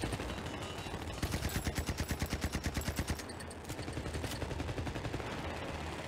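Gunfire in the video game Crossfire X: a fast burst of rapid automatic shots, then more scattered firing under a dense, noisy battle background, with no talk.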